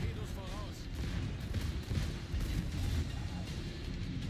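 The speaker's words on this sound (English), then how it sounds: "let's hear it for the secondaries" Secondary battery guns firing on a warship in World of Warships, a steady run of dull distant thuds and booms over ambient game noise, fairly faint.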